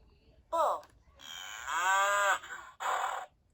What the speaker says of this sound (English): The bull is strong.